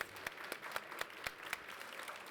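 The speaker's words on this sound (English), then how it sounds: "Round of applause." Audience at a fireside stage applauding after a talk, a soft, steady patter of clapping from a modest crowd, with a few sharper individual claps standing out, somewhat distant.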